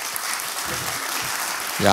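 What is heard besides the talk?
audience applause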